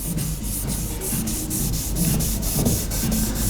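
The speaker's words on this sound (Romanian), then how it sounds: "Șlefuim tot timpul în aceeași direcție." Car paint is hand-sanded with 3000 grit sandpaper in steady, rhythmic back-and-forth strokes, each pass making a close, even rubbing swish in a continuous repeating pattern with no talking.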